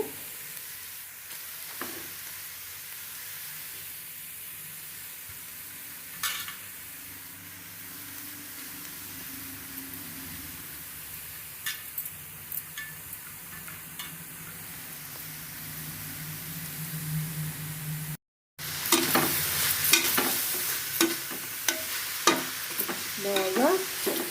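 Grated carrot frying in melted butter for carrot halwa, a soft continuous sizzle with intermittent stirring scrapes that turns louder and busier near the end after a brief gap.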